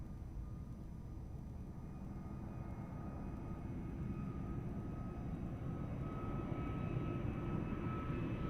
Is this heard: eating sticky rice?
no